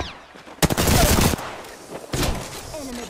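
Gunfire in Apex Legends: two close, loud bursts of rapid automatic shots, the first longer and the second shorter, separated by a quieter gap with faint game sounds.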